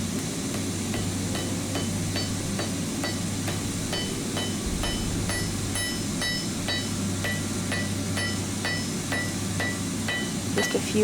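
Light, regular hammer taps ring out on steel bars clamped together for a forge weld, a quick steady series of small metallic clinks over a constant forge roar in a smithy, no talking.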